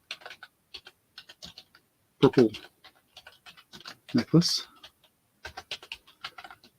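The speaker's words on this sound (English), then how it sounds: "My typing is terrible again tonight." Quick, uneven clicks from a computer keyboard being typed on during a live online auction of vintage items, sounding as sparse bursts of taps between and beneath a nearby voice talking.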